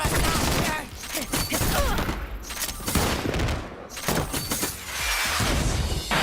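Sniper gunfire in the Fortnite video game: loud, dense bursts of shots and impacts that crowd the whole stretch, with brief dips between volleys and a voice mixed into the chaos.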